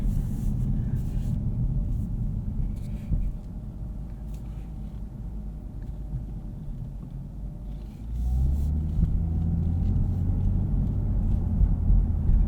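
Cabin rumble of a Lexus IS 350 F Sport Design AWD sedan rolling into the Road America circuit, a steady low road and engine drone that swells as the car picks up speed near the end.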